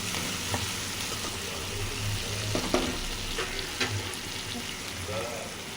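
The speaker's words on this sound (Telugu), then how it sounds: "ఇది లైట్గా గోల్డెన్ బ్రౌన్ కలర్ వచ్చే వరకు ఫ్రై చేసేస్తున్నాం." Egg fries in a pan, giving a soft, even sizzle with a few light scrapes, fairly quiet and steady throughout.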